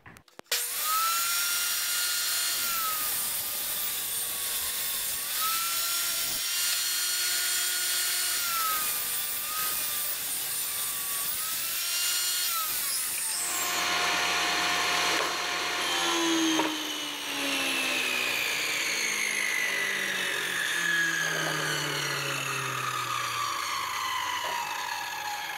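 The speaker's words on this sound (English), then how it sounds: "now I gotta get the table saw out and start ripping those down to 2 1/4" A table saw rips wood slats down to narrow width, starting with a steady high whine under the blade, then the motor winding down with a falling tone after the cut, alone without talk.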